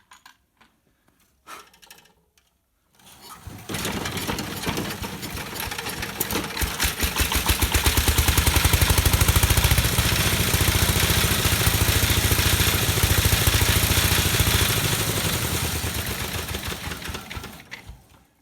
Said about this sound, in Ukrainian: Ось так я завів свій мотоблок.